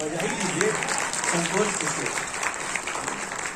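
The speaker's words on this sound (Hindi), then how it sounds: "तो एक्टिंग के लिए ताली बजाई दीजिए।" An audience applauds steadily through the whole stretch, a dense wash of clapping with a few voices mixed in underneath.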